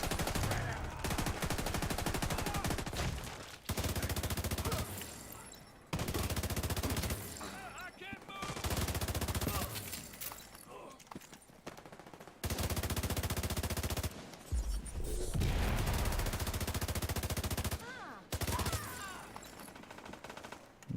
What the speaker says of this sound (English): Don't need this other group shooting me in the back